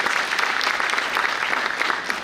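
A crowd applauds at a college inauguration ceremony, with dense, even clapping that holds steady throughout and no break.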